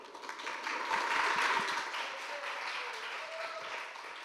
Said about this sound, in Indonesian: Boleh tepuk tangan dong untuk Eprem dong.